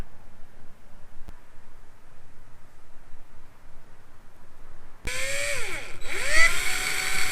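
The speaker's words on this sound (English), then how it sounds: "use them as a marking point where I'm going to drill my holes into the side" A power drill bores holes into the side of a kayak, starting abruptly after a quiet stretch with a loud whining whir whose pitch dips and rises as the bit bites, close and alone.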